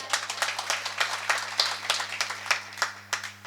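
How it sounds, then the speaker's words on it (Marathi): Claps from a crowd at an outdoor Marathi speech event honouring Shivaji Maharaj. The claps come in a loud, rhythmic run of sharp hand strikes, steady and close, with a faint hum underneath. "ह्या तरुणांसाठी पहिल्यांदा कडकडीत टाळ्या झाल्या पाहिजे."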